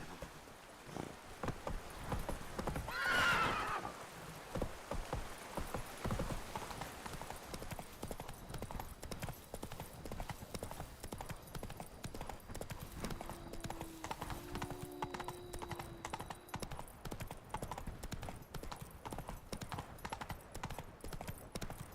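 Roach the horse in The Witcher 3 clip-clops steadily throughout, with a brief neigh early on and faint game ambience underneath; no talking.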